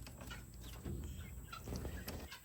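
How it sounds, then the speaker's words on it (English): Young guinea fowl in a farmyard give faint, rough chattering calls in quick irregular bursts over low background rumble. "these guineas here are getting big"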